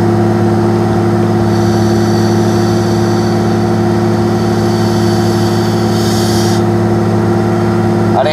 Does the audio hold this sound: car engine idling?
yes